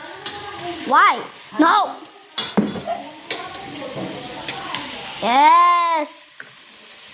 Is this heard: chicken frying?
yes